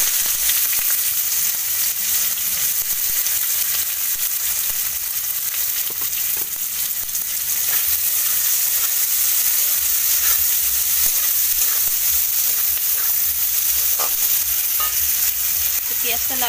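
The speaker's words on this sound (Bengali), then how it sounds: "পেঁয়াজটা লাল লাল করে ভেজে তারপরে দিয়ে দেবো মশলা" Onions, following a bay leaf and cumin, frying in hot oil in a home kitchen pan, giving a steady, close sizzle with occasional stirring scrapes throughout, no voices.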